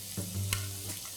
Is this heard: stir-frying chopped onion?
yes